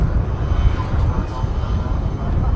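Boeing B-17G Flying Fortress 'Sally B' making a final air show pass at Duxford with smoke on, its piston propeller engines producing a steady, loud, broad roar for the whole stretch.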